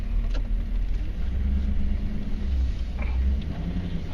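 A 1994 Chevy Silverado K1500 pickup with a 6.5L turbo diesel drifts on a snow-covered road, its engine droning steadily at low pitch with a couple of brief brighter swells, heard from close by with no talk.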